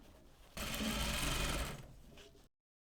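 Sewing machine running a short line of stitching on a pleated wrap lapel bodice, a loud fast motor whirr lasting about two seconds before stopping abruptly, quiet room before and after.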